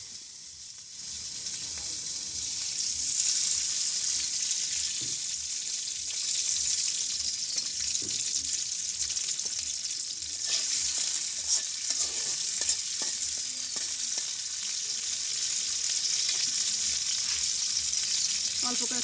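Bay leaf, garlic and green chilies fry in hot oil with a close, continuous crackling sizzle, broken by scraping stirs of a spoon in the pan.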